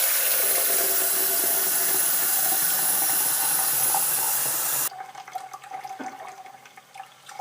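Hot tap water runs hard into a small beaker in an older apartment kitchen, a loud steady rushing hiss for about five seconds that cuts off to quieter trickles and faint drips.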